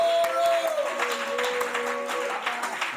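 A congregation in a French-speaking church applauds in a brief, steady wash of many hands clapping, with faint voices and held tones under it.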